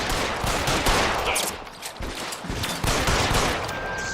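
Gunfire during a shootout in L.A. Noire, dense rapid volleys of shots from several weapons overlapping loudly, with a brief lull midway before the firing surges again.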